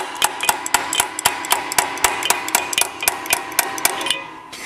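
A crescent wrench taps repeatedly on an air compressor during a tune-up, giving a steady series of sharp metallic knocks, about three per second, close and fairly loud.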